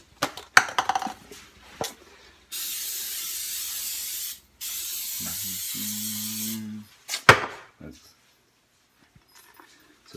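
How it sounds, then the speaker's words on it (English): Cooking spray hisses from an aerosol can onto a waffle iron in two steady bursts of a few seconds each, close and loud, with brief talk and kitchen clatter around them. "Oh, gotta spray it first."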